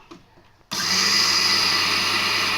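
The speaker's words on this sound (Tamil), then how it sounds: "இப்போ எள்ளு நம்ம அரைக்க போகிறோம்" An electric mixer grinder starts abruptly and runs at a steady, loud whir, grinding sesame seeds into powder, with a faint voice before it starts.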